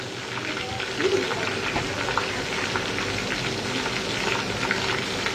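Thin slices of meat chaap frying in oil in a pan on an induction cooker, a steady crackling sizzle with popping spits throughout, close and continuous, with no talking over it.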